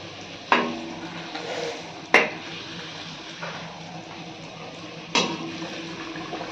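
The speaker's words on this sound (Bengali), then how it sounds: "লুচি ভাজা স্টার্ট হয়ে গেছে এখন এই দেখুন অলরেডি দুটো ভাজা হয়ে গেছে ভাজা চলছে" Luchi puffed flatbreads deep-fry in hot oil with a steady bubbling hiss, and three sharper splashing bursts rise out of it when dough meets the oil or is flipped. No one speaks.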